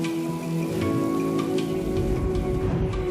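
Steady rain falls outdoors, a dense, even hiss of drops spattering on surfaces, loud and unbroken throughout with no voices.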